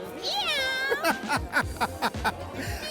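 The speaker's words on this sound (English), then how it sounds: "You're scaring me. I'm scared of cats." A cat meows repeatedly, loud and close, with a drawn-out rising and falling cry followed by a string of short, sharp meows.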